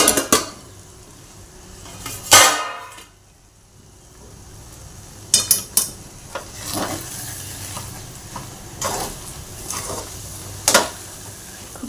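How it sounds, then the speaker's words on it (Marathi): Pan of South Indian upma cooking on a low gas flame, with sharp metallic clanks as the lid is lifted and set down, then quieter scraping and utensil knocks over a faint background hiss. "आता आपण याच्यावरचं झाकण काढून घेऊया।"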